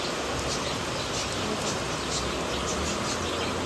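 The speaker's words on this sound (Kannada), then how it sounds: "ಜೋರಾಗಿ ಮಳೆ ಸ್ಟಾರ್ಟ್ ಆಗಿದೆ" Heavy rain pouring steadily in the evening, a dense, continuous roar of falling water that stays loud and unbroken from start to finish, with no voices.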